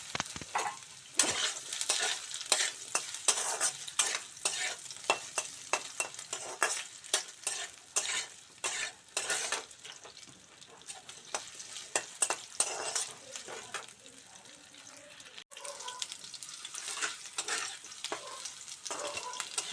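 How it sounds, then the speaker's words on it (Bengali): Potato pieces fry in hot oil after a tempering of spices, sizzling steadily while a utensil repeatedly stirs and scrapes the pan in irregular bursts, close and fairly loud. "টুকরো করে রাখা আলুর টুকরোগুলো এবার আমি তেলের মধ্যে দিয়ে"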